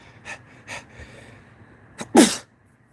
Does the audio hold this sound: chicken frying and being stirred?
no